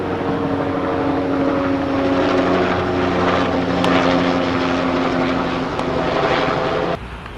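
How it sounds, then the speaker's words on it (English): Aircraft passing overhead, a steady loud engine drone with a low tonal hum that fills the scene and then drops off abruptly near the end, with no talking. "Here comes Chemtrail Protection Service rocket aircraft."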